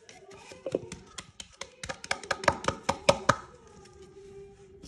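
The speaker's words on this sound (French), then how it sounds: "on va venir tamiser de la farine sur le mélange du jaune d'œuf" Flour is sifted onto an egg yolk mixture for Japanese pancakes, with a quick series of sharp taps on a sieve that grow louder and denser in the middle before fading.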